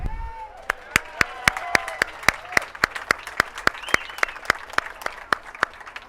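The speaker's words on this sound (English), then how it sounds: "let's give a round of applause for actress Kathy Garver" Audience applause at a Hollywood Walk of Fame ceremony outdoors, with sharp, close hand claps in a fast, steady rhythm over fainter crowd clapping.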